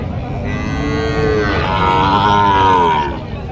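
A bull at a livestock cattle market lets out one long, loud, close moo with a rising tonal pull, set against crowd noise at the market.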